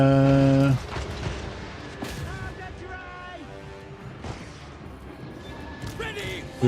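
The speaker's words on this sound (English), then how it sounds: "Cannons! Fire!" Cannons firing in a video game battle, a series of sharp booming blasts scattered through the clip amid clattering impacts, following a shouted command at the start.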